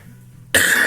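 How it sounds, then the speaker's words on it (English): One sudden, loud, harsh cough after a short near-silent pause. "I apologize for the cough"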